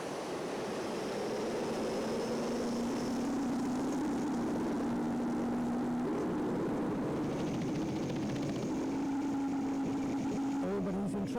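At a European tractor pulling event in Windenhof, France, the Synergy pulling tractor roars continuously, loud and rising in pitch through the run, with crowd noise underneath.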